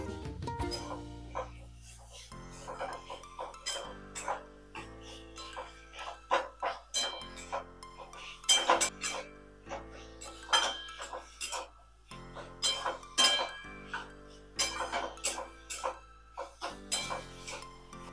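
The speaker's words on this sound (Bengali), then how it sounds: "কিমাটা দিয়ে এবার একটু নেড়ে নিচ্ছি।" Chicken mince for cutlets being stirred in a pan, heard as repeated clinks and scrapes of a utensil against the pan in uneven bursts, close and fairly quiet, with no talking.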